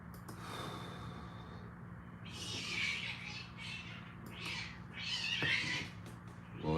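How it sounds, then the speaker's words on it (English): A cat meowing outdoors gives several drawn-out, wavering meows at moderate distance, spread over a few seconds above a steady low hum. "there's a cat out there"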